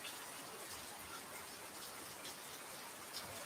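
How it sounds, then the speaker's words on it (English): Heavy rain pouring down steadily outdoors in Thailand, a dense, even hiss of falling water with no talking. "And we've got the rain, maybe about 3 or 4 inches,"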